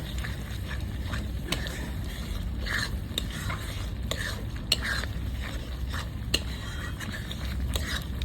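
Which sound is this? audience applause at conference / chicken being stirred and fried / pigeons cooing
chicken being stirred and fried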